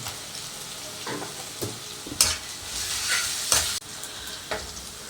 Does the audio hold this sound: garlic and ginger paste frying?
yes